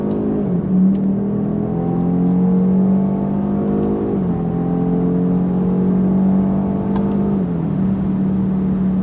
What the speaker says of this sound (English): Being a petrol, this car definitely sings on the higher revs.